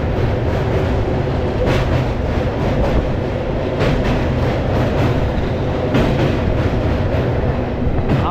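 Inside or beside the Kolkata–Digha special passenger train near Bagnan, a loud steady rail rumble with rhythmic wheel clacks at joints rolls on for several seconds, with no speech.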